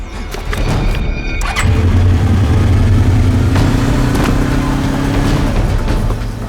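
A motorbike engine starting with a cough and settling into a loud, rough idle, steady mechanical rumble with a few sharp clanks and knocks.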